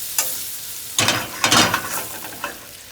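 Scallops sizzle in butter with thyme as they are basted, giving a close crackling fry with several louder bursts of spattering as the butter is spooned over them.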